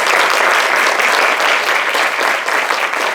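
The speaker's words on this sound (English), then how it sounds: "if we can please just offer a big round of applause" An audience at a talk on measuring poverty breaks into sustained, dense applause, loud and even from start to finish with no voices over it.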